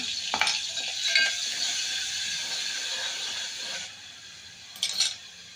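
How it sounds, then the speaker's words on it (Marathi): Ground masala paste sautéing in hot oil with cumin in a cooking pot gives a continuous close sizzle and hiss, broken by a few sharp stirring scrapes near the start and again near the end. "मसाला एकदा चांगला परतून घ्यायचा"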